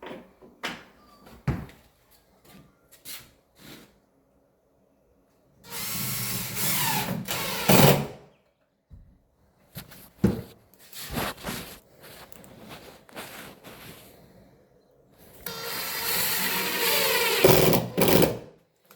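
A power drill drives screws into a door striker plate during a door handle installation, two loud buzzing bursts of a couple of seconds each, separated by clicks and handling noises close by.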